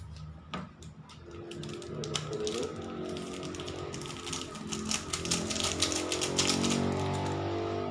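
Scissors snip open a plastic instant noodle seasoning packet in a home kitchen, giving a run of crisp, rapid clicks and crinkles that grow busier and louder toward the end.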